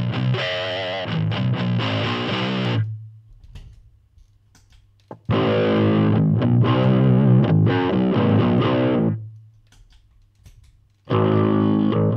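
A heavily distorted electric guitar dialed in to recreate a specific guitarist's tone plays loud, close bursts of riffing separated by near-silent pauses.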